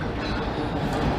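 A train rolls along railroad tracks at the end of a street, a steady, dense rumble with no breaks, heard only briefly.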